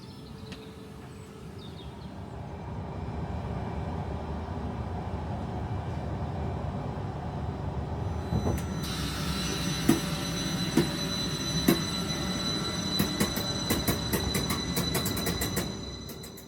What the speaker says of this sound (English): So we're going to board the 1542 Northern service to Leeds, and let's head to our final station, Shipley.